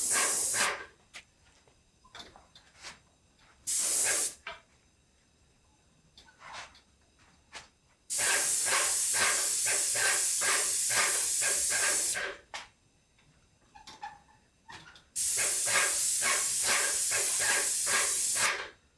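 An air blower hisses in loud, sharp bursts as it clears dust from wood cabinet doors, with longer sustained blasts separated by quiet gaps and a few short puffs.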